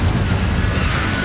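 Confringo fire-blast spell going off in the Hogwarts Legacy video game, a continuous low rumbling burst that stays loud and steady for over a second without any talk.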